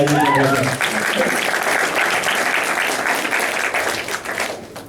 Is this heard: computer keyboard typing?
no